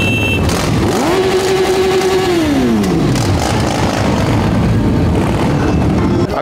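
A motorcycle ridden by bikers on a wedding trip revs loudly, its engine note climbing, holding high, then sliding back down to a steady rumble close by, with no talk.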